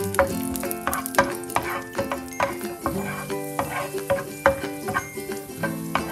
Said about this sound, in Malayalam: ഇത് രണ്ടും നമുക്കൊന്ന് റോസ്റ്റ് ചെയ്ത് മാറ്റി വെക്കാം